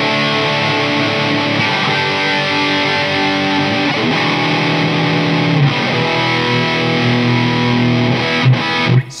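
A Rhoads-shape neck-through electric guitar with Seymour Duncan distortion pickups and a golden Floyd Rose tremolo plays loud, heavily distorted chords that ring and sustain throughout, with no talking.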